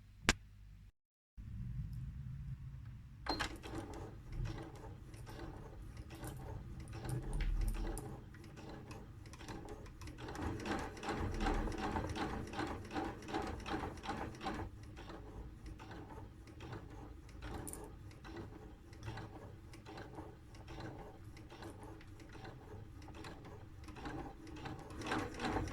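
Domestic sewing machine stitching a seam on a fabric tunic, a steady rapid mechanical whir with fast needle ticking, close and continuous after a brief handling clunk at the start, with no talk.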